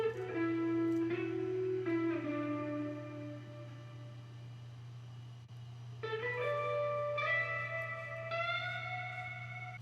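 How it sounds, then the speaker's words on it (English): Processed guitar part built in FL Studio with Guitar Rig and RC20 effects, playing sustained melodic notes and chords over a steady low drone, alone with no talk, moderately quiet with a slight dip mid-phrase before brightening. "So the finished guitar by itself sounds something like this."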